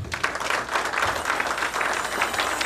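Audience applause at an inaugural gala in Washington DC, a steady wash of many hands clapping for nearly three seconds, fairly loud and close, with no talk over it.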